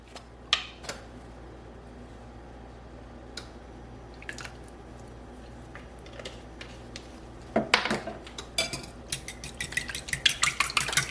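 Spoon mixing almond milk and vanilla into an oatmeal mixture: scattered clinks early, then a dense run of rapid scraping taps against the bowl toward the end, close over a low hum with no talk.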